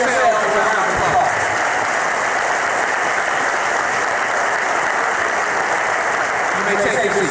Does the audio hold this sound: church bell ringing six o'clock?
no